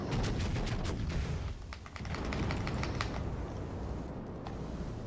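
Battleship guns boom in World of Warships Legends, the Tirpitz firing shells in a rapid rattling cluster of blasts over a constant rumbling background, loud and dense.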